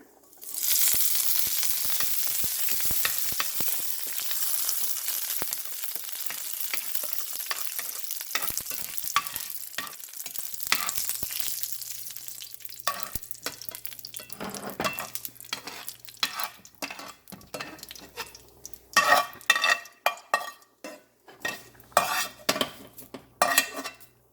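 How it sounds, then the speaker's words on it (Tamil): Curry leaves fry in hot oil in a pan, a loud, close hiss that fades as metal utensils stir and scrape against the pan in irregular clinks. "அடுத்ததாக நாங்கள் இப்போ கருவேப்பிலையே பொறிச்செடுக்க போகிறேன்"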